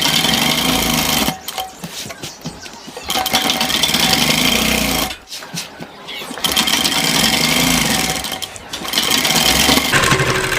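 A sewing machine stitches a pocket onto a gents' kurta, loud and close, running in three long bursts with brief pauses between them.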